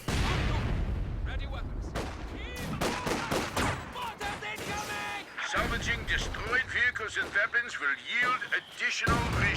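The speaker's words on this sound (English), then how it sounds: "Oh, nice shell from that mortar." Mortar shells and gunfire crack and boom in a World War II real-time strategy match, sharp explosive bursts scattered across the stretch with a dense stretch of impacts near the end, mixed under a commentator's talk.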